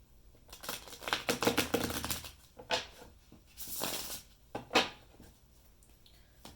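Tarot cards riffle and shuffle in several quick bursts with soft papery flutters and taps between them, close by and with no talking.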